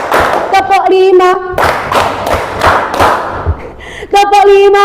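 A classroom of students clapping in short patterned bursts on a teacher's call, sharp handclaps in quick rhythmic groups separated by brief pauses, loud and close, alternating with a voice.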